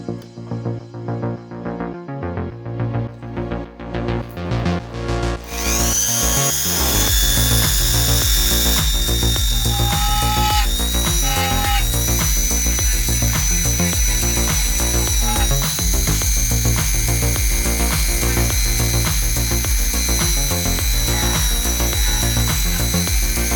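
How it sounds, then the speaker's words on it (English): Dremel rotary tool drilling a small hole in a scratch-built Warhammer miniature to fit a magnet: a close, steady high-pitched whine holding for about twenty seconds after a brief buzzy start, no voices. "use my Dremel for drill a little hole for glue the magnet in place"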